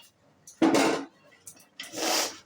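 Drained chana dal is tipped into a metal pressure cooker: two short rattling, scraping pours with light clinks of a utensil against the pot, close and moderately loud, alone.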